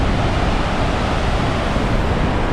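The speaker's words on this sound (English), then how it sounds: "Okay, we are back to the slabby waterfall part." Rushing water from Horsetail Falls near Lake Tahoe, a broad, steady roar that holds loud and unbroken throughout, with no voices over it.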